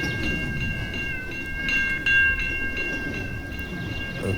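An intermodal freight train rolls past close by with a steady, heavy rumble, and sustained metallic squealing tones ring over it from start to finish.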